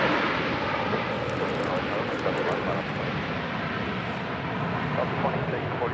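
An airliner lands at Los Angeles International Airport with a loud, steady broadband jet roar that fills the whole stretch without easing.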